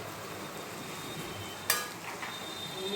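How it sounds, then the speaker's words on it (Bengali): Fuchka puris frying in hot oil, a steady, even sizzle with one sharp metallic clink from a utensil partway through. "একদম লালচে লালচে করে ভেজে নিতে হবে ফুচকাগুলোকে"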